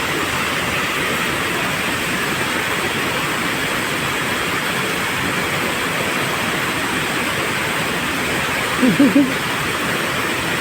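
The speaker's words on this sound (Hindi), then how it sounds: "So cute fountain." An outdoor fountain near a Bangkok hotel sends up a constant, close splashing rush of water, steady from start to finish, with a short faint voice-like sound near the end.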